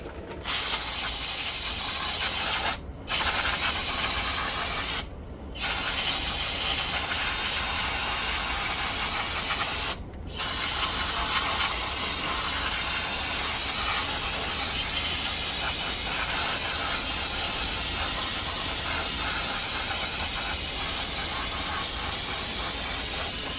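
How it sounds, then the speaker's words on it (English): Brake cleaner aerosol spraying through a straw nozzle on a 2003 Ford Escape, a loud continuous close hiss lasting over twenty seconds, broken only by a few very brief pauses. "So we got the straw here and some brake clean. We're gonna clean this up here."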